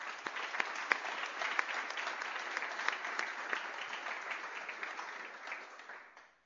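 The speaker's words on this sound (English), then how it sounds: "let's give this group of hardworking people a round of applause" A room full of people claps steadily at a university internal medicine awards day, honoring graduating residents. The applause is sustained and fairly distant, then thins and fades out at the close.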